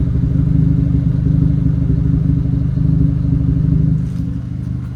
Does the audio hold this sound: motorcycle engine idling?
yes